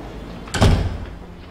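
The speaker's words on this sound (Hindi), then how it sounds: "आप बाहर जाएं, दरवाजा बंद करें" A door swings shut in an office during a drama scene, one brief muffled thud with a short rumbling close at moderate loudness over a quiet room.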